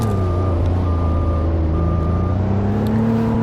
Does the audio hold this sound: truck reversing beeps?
yes